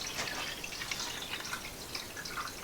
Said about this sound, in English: then you're just going to fill the rest of the pot up with plain tap water.